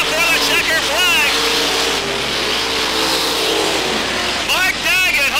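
Race cars thunder past at Merritt Speedway in a loud, roaring drag race toward the checkered flag, with engines sweeping by at the start and again at the end, a commentator talking over the continuous engine noise.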